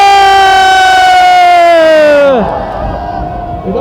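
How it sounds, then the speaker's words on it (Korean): Large patriotic rally crowd at Gwanghwamun in Seoul cheering loudly and steadily, with a strong droning tone sliding downward before the roar settles into broad crowd noise. "우리 윤석열 대통령에게 여러분 환호 한번 해주십시오."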